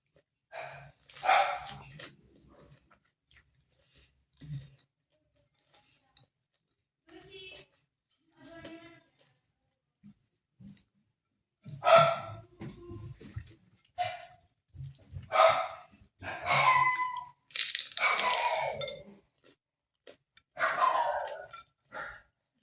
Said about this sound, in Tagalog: Yan na yung mga aso.